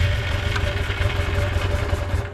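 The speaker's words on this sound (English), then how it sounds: "let me grab the clutch and hit the starter button" A motorcycle starter is pressed and the engine cranks and turns over, a steady close mechanical whirring drone with a low rumble that holds evenly for a couple of seconds.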